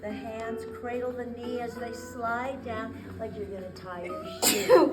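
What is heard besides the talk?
sneeze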